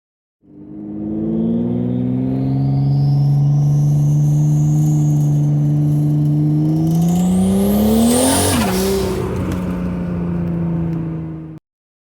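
Turbocharged Buick Regal with a 3800 engine, prepped for drag racing, accelerates hard in one long loud pull, its engine tone climbing steadily as turbo whine rises, then a sharp shift before the roar fades out.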